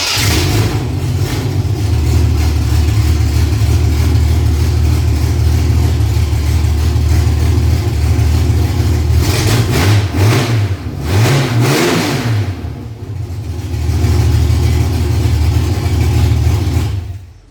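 Ford Cortina Leisure fitted with a 3-litre V6, freshly built engine starting and running, a loud steady idle broken by several sharp revs midway, then settling back to idle.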